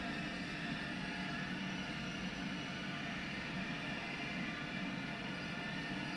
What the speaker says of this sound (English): That's the train we were just driving.